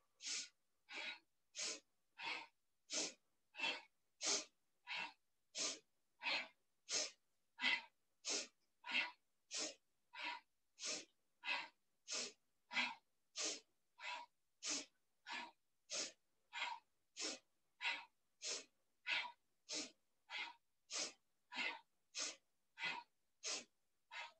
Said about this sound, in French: Inspire vers le haut, expire vers le bas.